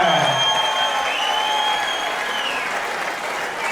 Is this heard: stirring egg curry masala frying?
no